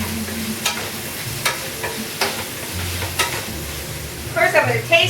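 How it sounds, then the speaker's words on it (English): Pieces of pork caramelizing in a frying pan give a steady, close sizzle, with utensil stirs and scrapes at intervals and a busier crackling burst near the end. "pork is just caramelizing very well"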